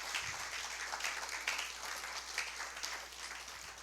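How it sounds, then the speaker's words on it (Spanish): Church congregation at a Spanish-language service giving a round of applause, a fairly quiet, diffuse patter of many hands clapping continuously, with a low hum underneath. "Dale un fuerte aplauso al Señor."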